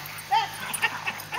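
A dog gives short, close barks and high whimpers in quick bursts, with a person's voice faintly mixed in.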